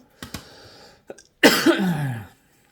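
A couple of short coughs, then a brief pause and a longer, louder throaty cough burst, close up with no talking.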